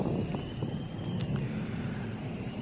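Traffic on a busy road passes in a steady, moderately distant wash of tire and engine noise, one car after another blending into a continuous drone with faint higher whines.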